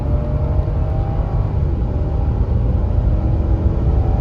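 A 2006 Lexus LS430 engine runs steadily while driving, giving a continuous low rumble and whir from inside the car, even and strong throughout with no talk.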